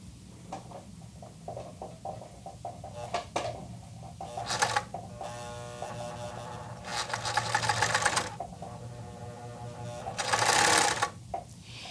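A blind hem sewing machine stitching a hem, its whirring motor running in uneven bursts with short pauses and louder fast runs near the end.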